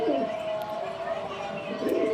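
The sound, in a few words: Afshan grizzle pigeons cooing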